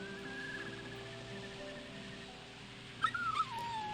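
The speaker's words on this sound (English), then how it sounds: "So we hear a dog crying." A puppy whimpers near the end of a quiet ambient scene in the video game Rule of Rose, with a brief high crying yelp over a low steady hum.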